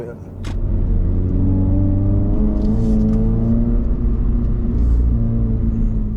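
A Subaru BRZ sports car that is drifted hard and also driven daily: a loud, steady engine drone with a low rumble, heard close and continuous while driving, without clear pauses.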